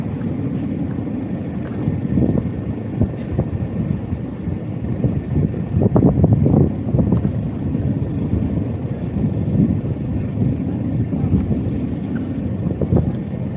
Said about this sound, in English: have an airplane going overhead too.